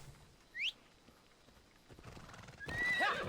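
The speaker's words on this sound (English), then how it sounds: "Now is probably a good time to unveil my horse." A horse in Assassin's Creed Odyssey gives a short rising whinny, then after a lull a louder neigh rides over approaching hoof clip-clops, all faint and in-game with no talk.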